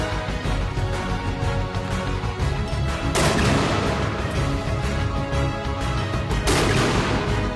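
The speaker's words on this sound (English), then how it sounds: "the 81mm mortar is a medium part mortar from secondary weapon. It is medium explosion goes impact." An 81mm mortar fires during a US Marines live-fire exercise, with two loud, sharp blasts a few seconds apart standing out against a continuous heavy rumble of outdoor noise.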